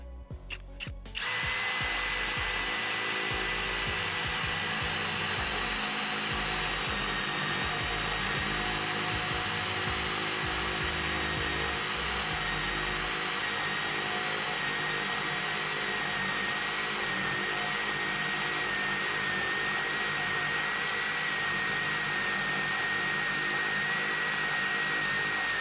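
After a short clatter, an Erbauer ECD18-Li-2 18V cordless drill with a 20 mm Makita flat bit runs continuously with a loud, even high-pitched whine and rumble, boring steadily for a long stretch.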